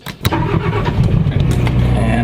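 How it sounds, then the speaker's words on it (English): Motor yacht generators and engines starting up, settling into a loud, steady low rumble right after an initial crank, dense and continuous at close range. "get the generators going, and start the motors"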